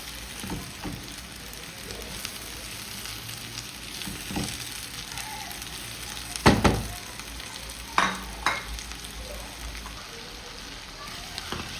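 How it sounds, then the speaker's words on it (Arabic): Chopped onions and diced tomatoes fry in a pan with a continuous crackling sizzle, broken by a few sharper stirring clatters and spatters partway through. "نخلوها تتقلى"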